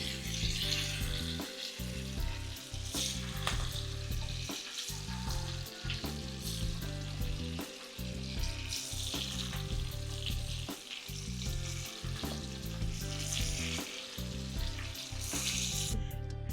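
Prawns masala fry roasting in hot oil until crisp, a loud, steady sizzle and crackle that keeps going throughout, with occasional stirring knocks against the pan and no talking.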